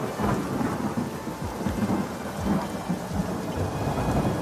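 Heavy storm rain pours in a dense, continuous roar while thunder rumbles low and repeatedly underneath, loud and close with no voices.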